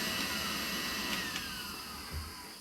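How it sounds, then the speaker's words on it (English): Two cooling fans, a Breeze Blast and a Mission, run together, giving a loud steady whirring hum with a broad airy hiss that stays constant throughout, close to the listener. "I wanted you to hear my two fans, how loud they are."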